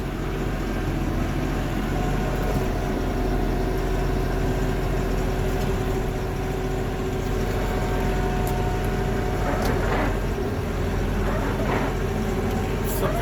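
A Mahindra tractor plowing 4 inches of wet snow, its engine giving a loud, continuous low rumble and drone close up, with faint scraping and knocks on top.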